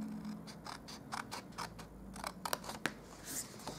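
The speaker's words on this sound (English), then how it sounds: "we're going to cut that square off" Scissors snip through paper score lines on a Stampin' Up! buffalo check reindeer baker's box, a quiet series of quick close crisp cuts in uneven rhythm with no talk.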